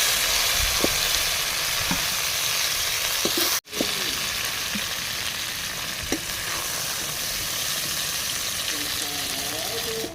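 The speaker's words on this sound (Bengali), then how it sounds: "ঠিক এরমভাবে সবজিগুলো ভেজে নিলাম" Winter vegetables fry in hot oil for khichuri, a bright continuous sizzle lasting throughout with scattered faint clinks and scrapes of stirring, briefly cut off once.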